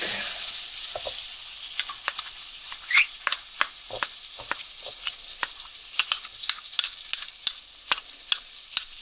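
Minced garlic sizzles in melted butter in a pan, a steady close hiss broken by scattered sharp pops and crackles, with no talk over it.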